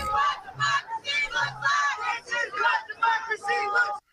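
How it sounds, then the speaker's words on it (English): A crowd cheering and chanting at a march to the Capitol, steady rhythmic massed voices rising and falling in waves, loud and close throughout. "Watch this and listen to the cheers in the crowd."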